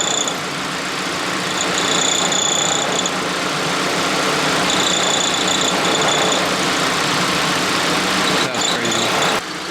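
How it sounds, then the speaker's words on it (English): An idling car engine runs steadily throughout, with a continuous metallic rattle from the hood prop riding on the low rumble and a brief knock near the end. "Listen to how much rattle this little hood prop makes."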